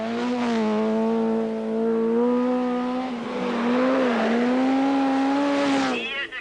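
A Group B rally car at the 1986 Swedish Rally sets off on a stage, its engine droning and rising in pitch as it pulls away and revs, loud and fairly close, with a commentator talking over it.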